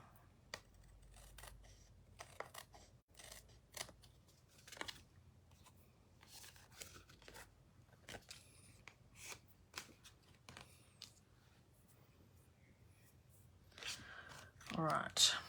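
Scissors snip paper into small fairy shapes, giving quiet, scattered short cuts and rustles in a hushed room, ending in a louder burst of handling.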